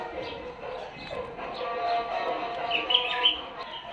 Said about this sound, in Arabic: الطيور بدأت تقرأ شباب، يعني تقرأ بس مو فول